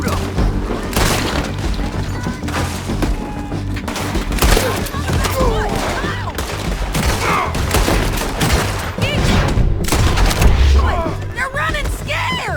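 Dense gunfire in a shootout in the video game Red Dead Redemption 2: rapid overlapping shots and booming blasts run continuously throughout, with voices shouting over the fire.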